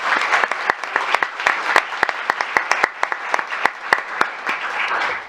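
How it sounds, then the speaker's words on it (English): At a school board meeting, an audience in a room breaks into steady applause with sharp individual claps standing out, sustained for several seconds at moderate loudness, with faint cheering mixed in. "thank you all for bringing your cheering sections"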